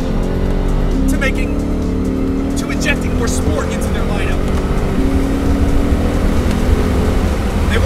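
A 2015 Lexus RC F being driven hard on a racetrack, its loud engine roaring and rising through the revs with some tire squeal, while someone talks over the top.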